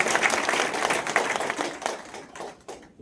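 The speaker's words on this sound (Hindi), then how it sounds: "तो एक बार दिल से ताली बजा लो" Seminar audience clapping in a hall, a fairly quiet burst of scattered applause that thins out and fades toward the end.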